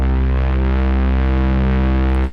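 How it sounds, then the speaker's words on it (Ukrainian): A thick, sustained synth bass note with slight detune and a wobbly chorus shimmer, loud and steady, cutting off abruptly near the end. "Є ось такий класний бас, який я взяв з плагіну Axe знову ж."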